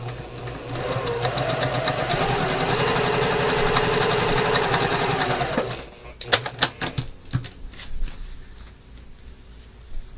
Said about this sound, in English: don't forget to put right sides together and sew 1/4 inch